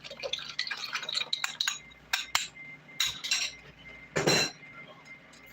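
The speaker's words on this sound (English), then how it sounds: "Give it a stir." A spoon clinks and scrapes against a metal pot while vanilla pudding is stirred, with repeated bright taps and clatters in an uneven rhythm, close and fairly quiet, plus one louder rattling scrape near the end.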